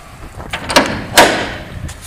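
A heavy trailer door on rollers in aluminum housing slides shut, followed by a series of sharp metallic clacks and a loud latching bang as it locks, close and distinct.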